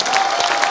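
An audience at an Armenian comedy league semifinal claps steadily, a dense even patter of applause close and loud from start to finish, with no voices standing out.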